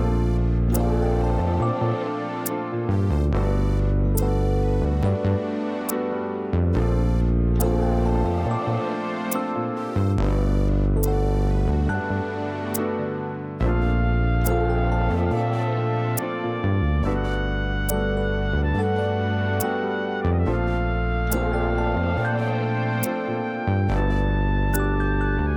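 Finished hip-hop sample beat built from Nintendo 3DS sounds: a steady looping groove with punchy drum hits and layered melodic tones, full and loud throughout with no talking.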